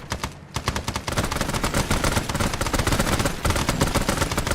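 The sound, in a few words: tracer gunfire in a video game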